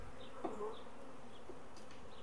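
Continuous soft buzzing of many honeybees at a hive during queen rearing, steady and faint, with no talking.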